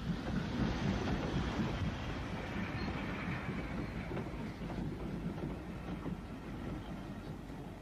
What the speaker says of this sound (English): 7802 Bradley Manor, now preserved on the Severn Valley Railway, leaves Moat Lane Junction with the 9:20 a.m. Aberystwyth to Shrewsbury train